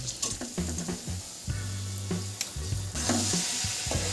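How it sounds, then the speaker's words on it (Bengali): Washed red lentils frying with spices and being stirred with cabbage in a pan, a near crackling sizzle broken by repeated stirring scrapes, no voices. "মুসুরির ডালটা দিয়ে ভালো করে বেশ কিছুক্ষণ আমি একটু কাল কষিয়ে নেব"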